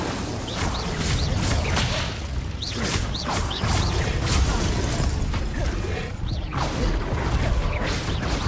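Incendio fire spells cast in Hogwarts Legacy, a run of sharp whooshing bursts and crackling pops repeating in quick succession through a busy combat mix, loud and close, with no talk.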